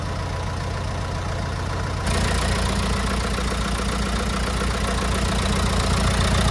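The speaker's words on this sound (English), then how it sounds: "Right, engine is running very nice." A rebuilt 165 engine, freshly refurbished after twelve years, idles steadily up close with an even mechanical drone, growing a little louder and fuller partway through.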